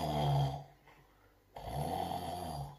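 A voice imitates a woman bear snoring in a children's bedtime story, two drawn-out rumbling snores separated by a short quiet gap, close and fairly loud with no other talk.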